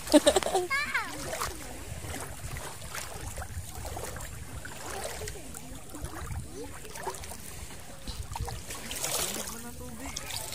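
People wading in shallow sea water at a beach in Leyte, Biliran Island, with repeated close splashes and trickling water while several voices, including children, chatter throughout.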